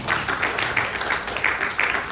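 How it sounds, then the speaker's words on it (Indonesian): Congregation at a Christian prayer fellowship gathering applauds, a dense, steady patter of many hands clapping at moderate loudness, with slight swells, and no talking over it. "Berikan tepuk tangan buat Allah kita"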